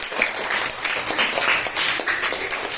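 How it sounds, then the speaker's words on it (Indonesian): Applause from a class closing a peer-teaching discussion session in Islamic religious education, a dense, steady patter of many hands clapping throughout, fairly close and with no talk over it. "tepuk tangan untuk semuanya."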